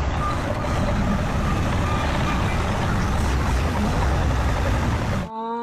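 A toy truck plays its reversing-beep sound: evenly spaced electronic beeps ring out steadily over a loud engine-like rumble, close to the listener, with no talk, before the sound cuts off abruptly near the end.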